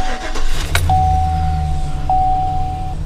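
A Chevy Silverado pickup truck starting up, its engine catching into a steady low rumble that carries loud and close through the whole stretch, with no talking over it.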